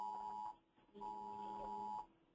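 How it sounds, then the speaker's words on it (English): A phone sounding an Amber Alert emergency alarm: two loud, steady electronic tones, each about half a second to a second long, separated by a short gap, with no one speaking. "there's some kind of alarm going off here. It's an Amber Alert."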